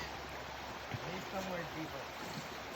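A creek flows with a soft, steady watery rush at low volume, heard close with a few faint rippling tones and no clear talk over it.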